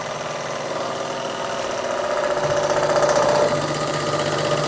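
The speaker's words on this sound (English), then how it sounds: "A truly lovely model steam engine." A Bing overtype model steam engine runs steadily with a fast mechanical chuffing and rattle, growing slightly louder midway, close and continuous with no voices.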